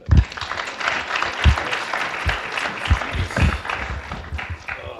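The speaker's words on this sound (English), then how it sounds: "let's give a warm round of applause for Michael Seibel" A startup-week crowd welcomes Michael Seibel of Socialcam with warm, sustained applause from many people, punctuated by a few low thumps, holding steady throughout.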